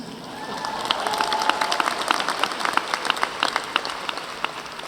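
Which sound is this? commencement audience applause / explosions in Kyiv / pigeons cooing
commencement audience applause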